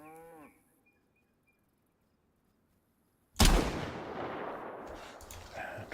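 Cow in the survival game DayZ, a short low moo followed by near silence, then a sudden loud gunshot that echoes and rumbles away into the distance.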